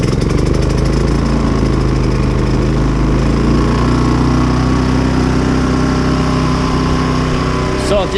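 A Champion 3400-watt dual fuel inverter generator runs with a steady, loud engine drone and constant low hum throughout, close by and unbroken, with no voices over it.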